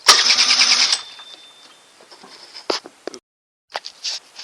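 A scooter engine cranks on its electric starter in a loud, rapid churning burst that stops after about a second, followed by scattered clicks and clatter.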